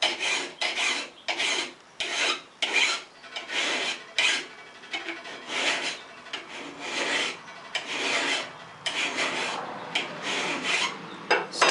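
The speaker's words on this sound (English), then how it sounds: "Now, flat, straight file, single cut file. Hold it fairly level this way" A flat single-cut file rasps across a hand-carved wooden stool seat in steady back-and-forth strokes, each a close, scratchy rub with short pauses between passes, with no talking.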